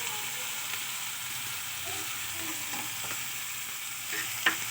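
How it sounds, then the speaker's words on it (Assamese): Dried fish stirred with a spatula as it fries in a pan for a chutney, a steady close sizzle with scattered scraping clicks of the spatula and a sharper scrape near the end. "আৰু ইয়াতে আমি শুকান মাছখিনি অকণমান হেতাখনে লুটিয়াই ল'ম।"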